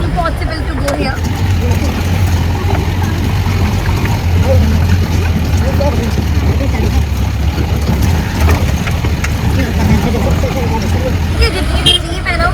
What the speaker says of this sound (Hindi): ये जितनी भी जीप है ना वो महिंद्रा की यहाँ पर चल रही हैं।